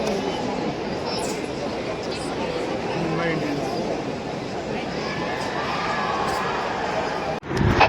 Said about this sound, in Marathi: मुंबई इंडियन्स सगळीकडे फक्त हाच आवाज. ही एनर्जी हा जल्लोष वॉज इनक्रेडिबल.